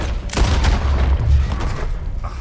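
A gunshot in the Western video game Red Dead Redemption 2, a loud booming report with a rumbling tail that fills most of the short moment, heard alone without talk.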